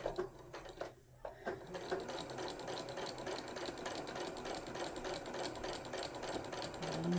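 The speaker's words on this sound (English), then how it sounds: "And just follow along and sew." A sewing machine stitches a Christmas stocking seam in a steady, fast mechanical chatter that runs almost without a break, close by and fairly loud, with a short pause near the start and no talk.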